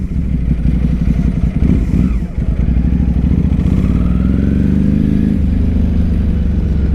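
A 2006 Ducati 749 motorcycle engine roars loud and close while riding, with a steady throbbing drone, a brief dip as the throttle shifts, then a rising rev that holds strong to the end.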